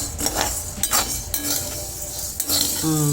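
Rice roasting in a pan while being stirred, the utensil clinking and scraping against the metal in irregular strokes, with faint background sounds and a brief voice near the end.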